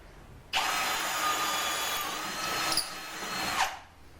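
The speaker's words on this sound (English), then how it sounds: "Just drill your hole there." A power drill spins up sharply and runs steadily for about three seconds while building a lobster pot, its whine wavering as it cuts through wood, then stops.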